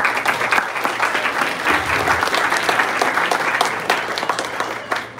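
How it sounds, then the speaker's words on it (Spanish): Steady applause from a youth retreat congregation in California, a full, dense wash of many hands clapping continuously for several seconds, with a faint low murmur beneath. "¿por qué no le dan un aplauso al Espíritu Santo?"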